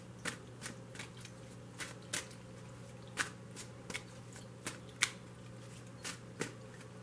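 An oracle deck for a tarot reading being shuffled by hand: soft, steady papery riffles and taps repeat roughly every half second over a quiet, faintly humming room. Nobody speaks.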